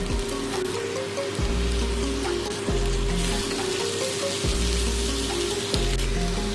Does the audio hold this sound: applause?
no